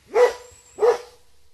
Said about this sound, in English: Mummy, look! A doggy!